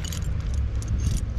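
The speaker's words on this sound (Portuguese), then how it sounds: "Miolo de chave é bom, hein? Um monte de chave. Umas chaves antigas, ó." A bunch of old door keys jangling close up, a steady metallic clinking and rattling for a moment over low background rumble, outdoors on a bridge while fishing.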